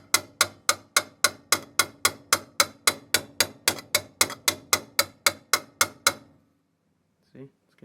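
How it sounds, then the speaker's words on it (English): A ball peen hammer taps a drag boat header tube resting on something soft, striking about twenty sharp, evenly spaced blows close by before stopping, then a brief faint knock. "Take a ball peen hammer."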